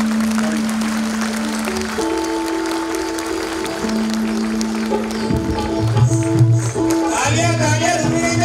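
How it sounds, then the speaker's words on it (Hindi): An audience claps steadily at a children's felicitation ceremony held at the Civic Centre in New Delhi, the applause continuing under loud music with sustained tones and later a voice. "तालियां रुकनी नहीं चाहिए। हम ये ताली बजाने के लिए आए हैं।"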